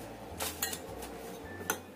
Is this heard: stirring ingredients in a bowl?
yes